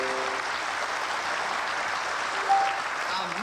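An audience applauds at an evening lecture, a steady wash of many hands clapping at moderate loudness, sustained evenly with a faint tonal trace partway through.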